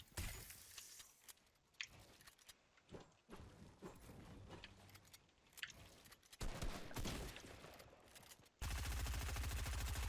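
Rapid automatic gunfire in a Fortnite cash cup trio match, bursts of shots spraying with irregular crackling impacts, mixed with game effects and quiet, ending in a loud dense noisy stretch.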